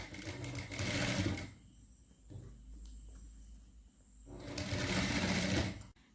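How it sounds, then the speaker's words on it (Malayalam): A sewing machine stitches the neckline of a kurti in two loud, close bursts of rapid whirring, separated by a quieter pause while the fabric is adjusted. "ഇനി ഇതിങ്ങനെ വെച്ചിട്ട് ഉള്ളിലേക്ക് മടക്കിയിട്ട് നമ്മളൊന്ന് പതിച്ചടിച്ച് കൊടുക്കാൻ പോവാണ്."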